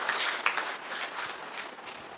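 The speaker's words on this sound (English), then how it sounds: "A big round of applause for Ratan sir." Audience applause at a valedictory function for an education workshop, a steady, moderately loud wash of many hands clapping that holds throughout before gradually thinning.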